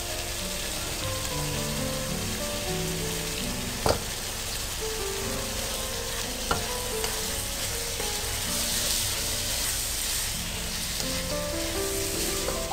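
Cooked rice stir-fried for Chinese-style chicken fried rice, giving a dense, steady hiss of sizzling that runs throughout, with a couple of brief clicks of a utensil against the pan, close, with no talking.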